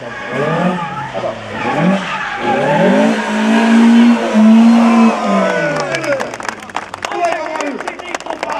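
A drift car launches at a No Limit Drifting event in 2011 with rising engine roar and loud tire squeal and skidding. Crowd noise and crackling sounds follow near the end.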